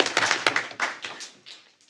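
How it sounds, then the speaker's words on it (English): A small round of applause at a school board of trustees meeting, quick scattered claps from a few people close by that thin out and fade within two seconds. "I'm going to give it a round of applause"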